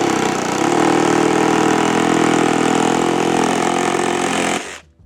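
A Makita brushless jigsaw makes a curved swivel cut, its motor buzzing loud and steady with a rapid blade chatter before it abruptly winds down and stops.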